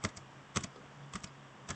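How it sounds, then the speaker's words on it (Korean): Several computer keyboard keys are pressed, about four quick double taps spaced across a quiet room, close and crisp with no talking. "컨트롤 키를 누르고 키보드에 플러스 키를 누르면"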